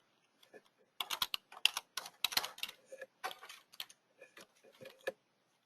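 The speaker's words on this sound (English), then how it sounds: "we'll be doing very limited typing" Light, irregular bursts of keystrokes on a computer keyboard, close and quiet, clustered into short flurries separated by brief pauses.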